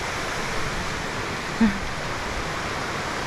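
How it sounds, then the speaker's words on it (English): Rushing river water beside a rainforest trail in Costa Rica, a steady even hiss that stays constant and moderately loud, with one brief knock midway and no talk. "It's this whole rushing river deal."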